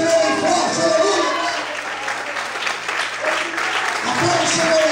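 Congregation applause at a church service, sustained and dense for the whole stretch with a crowd murmur and voices over it, steady in loudness and fairly near.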